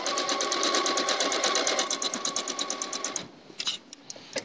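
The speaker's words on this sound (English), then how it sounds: "I have finished sewing one piece." A sewing machine chain-pieces log cabin quilt fabric in a fast, steady run of needle strokes, then slows to a few separate stitches before stopping with some brief clicks.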